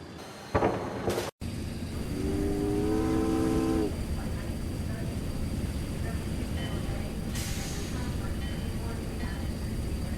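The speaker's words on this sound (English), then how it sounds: "The train is leaving!" A train in the video game Secret Files: Tunguska pulls away with a low steady rumble and a brief whistle-like tone, the rolling noise continuing evenly, with a short voice at the start.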